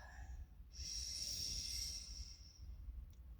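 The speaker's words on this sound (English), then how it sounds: "taking a deep breath" A single slow, deep inhaled breath is drawn close to the microphone during a meditative tuning, a soft airy hiss lasting about two seconds over a low background hum.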